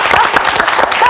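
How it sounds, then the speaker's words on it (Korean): Studio audience applauding during a televised 2011 KBS health lecture on exercise, a dense, steady burst of clapping filling the short moment at close range, with a voice faintly under it. "박수 부탁드리겠습니다."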